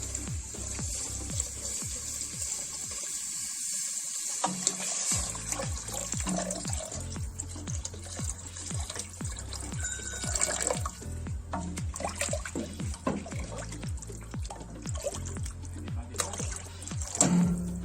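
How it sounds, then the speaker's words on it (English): Three liters of water pour from a container into a pressure cooker pot for spicy lentil soup, a steady close splashing and gurgling stream with fluctuating trickles, a brief pause near the start, then continuous pouring to the end, no talking. "I've got 3 liters of water. I'm just going to add that in"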